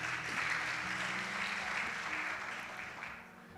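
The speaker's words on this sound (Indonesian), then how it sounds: "Tepuk buat Tuhan Yesus, haleluya." Congregation at a church youth service clapping in praise, a broad sustained wash of hand claps that fades slightly toward the end, with a faint low tone underneath.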